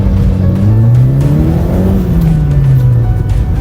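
A Toyota MR2 engine, newly running again during a rebuild, runs loudly nearby, its drone climbing and easing off as it revs, with a steady mechanical whir underneath.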